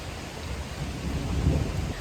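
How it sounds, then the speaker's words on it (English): Warm rain falls steadily at a thermal resort in Costa Rica, a dense hiss with a low rumble of thunder swelling briefly in the middle, all fairly faint and unbroken. "I feel like the rain just adds to the ambiance"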